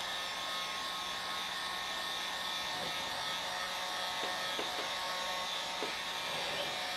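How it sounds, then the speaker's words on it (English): A heat gun blows with a steady, loud electric whir while warming plastic and glue on a blaster prop build. A few faint clicks are heard underneath. "the next tool that I run to for plastic is a little bit of a heat gun"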